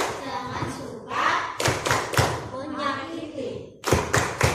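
Preschool children in a kindergarten classroom perform an anti-bullying clapping chant, with sharp group claps in bursts alongside chanted children's voices, close and fairly loud.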